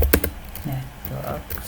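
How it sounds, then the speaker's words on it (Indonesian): A few quick, sharp keystrokes open the clip, typing a router command into a terminal. Speech follows. "Jadi kita kembali ke terminal, kita ketik lagi"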